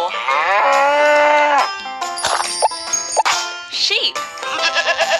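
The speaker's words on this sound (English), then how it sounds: "Cow." Cartoonish cow moo from a children's animal video game, a long sustained tonal call followed by bright game jingles and plopping effects, loud and close, alongside a voice naming the animal.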